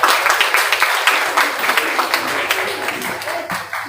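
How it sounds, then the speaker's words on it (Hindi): A crowd applauding steadily in welcome at an international seminar at a college in Buxar, many hands clapping at once in a loud, continuous patter. "बच्चे हमारा तालियों से स्वागत करेंगे"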